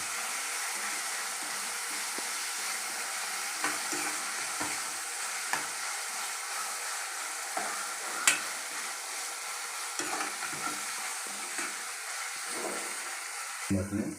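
Cabbage fry stirred in a pan, a soft continuous sizzle with scattered scrapes and taps of the spatula, close but fairly quiet, steady throughout.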